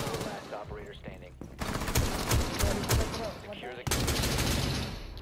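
Rapid bursts of automatic gunfire in the Rainbow Six Siege shooter game, loud and close, with short pauses between volleys and some voice mixed in.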